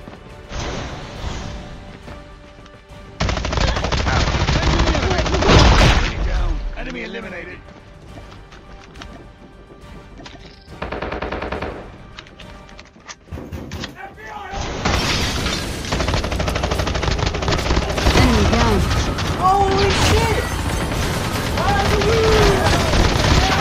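Gunfire in Call of Duty Mobile comes as loud repeated bursts of rapid shots with crashes and impacts, broken by quieter stretches. A voice speaks over parts of the action.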